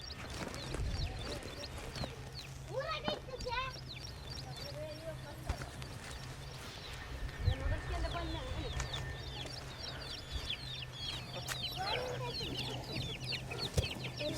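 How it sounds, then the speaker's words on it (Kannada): Young chickens on a farm peep and cluck in quick repeated bursts, close and busy, with occasional knocks and a low background hum. "ಸ್ನೇಹಿತರೆ, ನೀವು ನೋಡ್ಬೋದು ನಮ್ಮ ಕೋಳಿ ಮರಿಗಳು"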